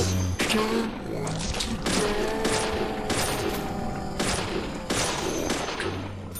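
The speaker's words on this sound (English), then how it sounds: "I might go back to using my infinite ammo pistol." Pistol gunfire in the video game Deadly Premonition, a series of sharp shots repeating at a steady rhythm over dense in-game background noise, loud and close.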